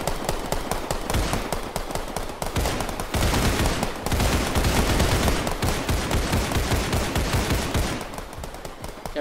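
Sustained rapid gunfire in the zombie shooter game Zombie Survivors, dense overlapping automatic shots hammering continuously for about nine seconds, loud and unbroken with no voices.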